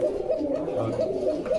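A pigeon at a pigeon seller's coop in Bogura gives a low, rolling coo, repeated in soft pulses over a steady hum, close by with no talk.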